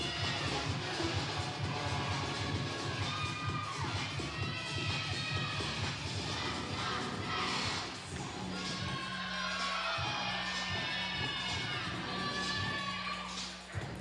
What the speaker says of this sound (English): crowd's really entertained. Everyone's getting into it.